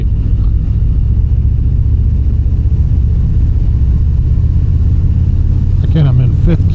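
A 2025 Harley-Davidson Fat Boy Gray Ghost cruising in fifth gear below 2,000 RPM, a loud continuous low engine rumble mixed with wind, steady throughout with a brief faint higher sound near the end.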